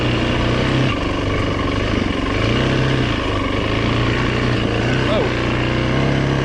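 A 2008 Yamaha WR450F dirt bike engine drones steadily at close range, its pitch rising slightly as it revs up a little, with a brief higher whine near the end.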